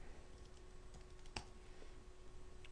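Code is typed on a computer keyboard in quiet, steady bursts of light key clicks, with one sharper keystroke partway through, and no talking.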